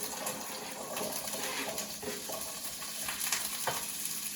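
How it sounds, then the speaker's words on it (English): Asparagus sizzling as it goes into a hot stir-fry pan with pork, a steady crackling hiss close up with faint stirring, no voices. "So now we're going to add the half of the asparagus. See, can you listen to that? That tells you it's ready."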